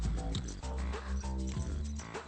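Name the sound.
dog barking and whimpering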